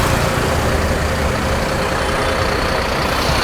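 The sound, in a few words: Bharat Benz FlixBus bus engine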